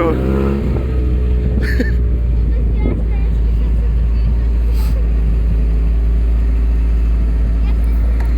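A rally car engine roars loud and close at a steady high rev, a continuous, dense drone throughout, with a few brief clatters and a person's voice shouting over it.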